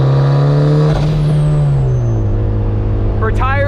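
A 400 HP built turbo Mazda Miata with Nitto NT01 tires revs hard on the street, its engine note climbing steadily and loud, then a quick burst of rising rev pitch near the end.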